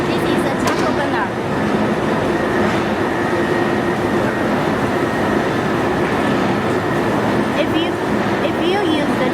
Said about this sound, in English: This is the charcoal burner.